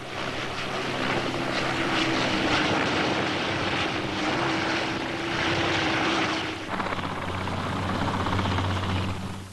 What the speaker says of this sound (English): The increasing demand for the versatile helicopter is shown by Westland's impressive parade.